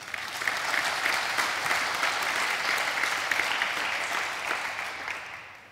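An audience at a Melbourne panel discussion on smart cities applauds the panelists, a dense, even round of clapping that holds steady for several seconds before tapering slightly at the end.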